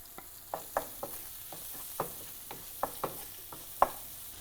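Garlic fries in a pan for tuna pasta with soft sizzling and a series of sharp taps and scrapes from stirring at a fairly regular pace, close up and with no voices.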